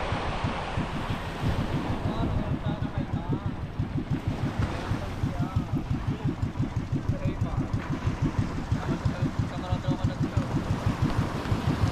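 A motor idles steadily with a rapid, regular putter, running continuously near the listener while wind and water wash in the background.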